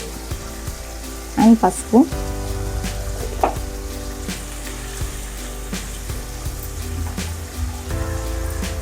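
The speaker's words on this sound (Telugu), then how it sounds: "అల్లం వెల్లుల్లి పేస్ట్ కూడా మంచిగా పచ్చివాసన పోయేంత వరకు ఫ్రై చేసుకున్నాం" Ginger garlic paste and turmeric frying in a pan for gongura chicken, a low steady sizzle with a few louder clattering stirs near the start, close up.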